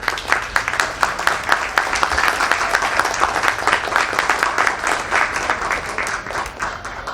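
An audience at a Peruvian novel presentation applauds an arriving speaker, the president of the Peruvian Academy of Language, in a loud, close burst of many hands clapping that holds steady for several seconds.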